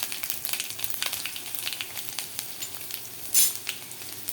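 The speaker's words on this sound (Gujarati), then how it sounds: "આપણે એમાં અડધી ચમચી રાઈ નાખીશું, અડધી ચમચી જીરું નાખીશું, અડધી ચમચી હળદર નાખીશું, જે આપણે લસણ કાપેલું છે એ લસણ નાખીશું" Mustard seeds, cumin, turmeric and chopped garlic sizzle steadily in hot oil for an okra-potato curry, with continuous crackle and occasional sharper pops and spatters, close and fairly loud.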